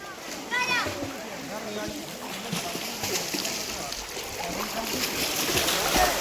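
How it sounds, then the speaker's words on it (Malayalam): Children splashing water near a raised bridge on a rural road, with irregular close splashes and water movement mixed with voices and outdoor background noise throughout. "വെള്ളം തെറിപ്പിച്ചല്ലേ കുട്ടികളെ."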